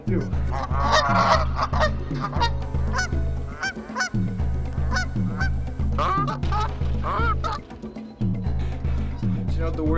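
A large flock of about fifty geese honks loudly and continuously, with many overlapping calls close by.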